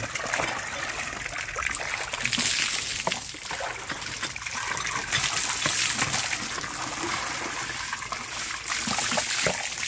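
Water poured and splashing continuously while hair is washed to remove dandruff, a steady trickling and splattering stream close by with faint voices underneath.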